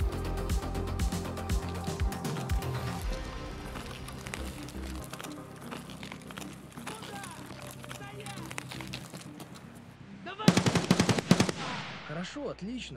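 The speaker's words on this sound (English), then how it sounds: "It kind of sounds like he has a friend with an AK as well." AK rifle gunfire in the video game Escape from Tarkov, a long stretch of rapid automatic bursts, then a louder, closer volley of shots near the end.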